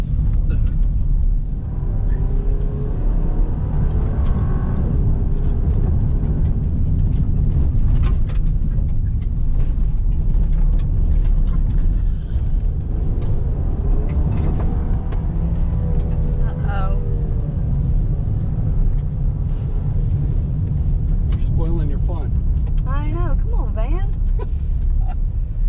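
Inside a 2024 Chevrolet Traverse Z71 driven in Georgia, a constant low road and engine rumble fills the cabin, loud and steady throughout, with people talking over it.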